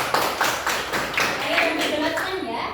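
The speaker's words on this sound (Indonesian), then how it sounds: "beri tepuk tangan." Classroom applause during a mathematics lesson: a short burst of many hands clapping in rapid, uneven rhythm, fairly close and steady, with voices murmuring underneath.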